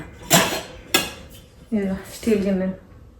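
Steel vessels unloaded from a dishwasher, two sharp metallic clinks followed by two ringing, resonant clatters of steel bowls, close and loud.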